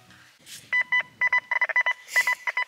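Metal detector signalling over a target while searching a lakeside beach: a string of short electronic beeps in quick pulses, clear and close, with no voices.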